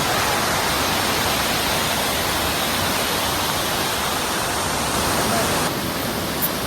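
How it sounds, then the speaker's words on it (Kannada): A small waterfall beside the road to Baba Budangiri in Chikmagalur gives off a loud, steady, close rushing roar of falling water that fills the whole stretch without a break. "ಇದೇ ಫಾಲ್ಸ್ ಅದು. ಇದು ಬಾಬಾ ಬುಡನ್ಗಿರಿ ಹೋಗೋ ದಾರಿಲೇ ಬರುತ್ತೆ ಇದು."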